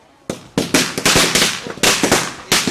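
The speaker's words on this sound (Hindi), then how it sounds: "यहाँ की पटाखे भी जलाए जा रहे हैं, जितने भी कार्यकर्ता हैं वो पटाखे जला रहे हैं" Firecrackers set off at a street celebration in Patna burst in a rapid, irregular string of loud, sharp cracks, one crowding the next, with a brief pause before a final bang.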